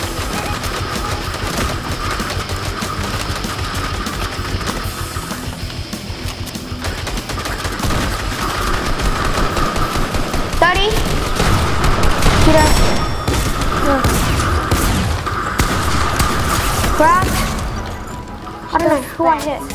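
Sustained gunfire in Fortnite, a battle royale video game: bursts and volleys of shots with occasional booms run throughout, layered over game noise, while players talk on and off.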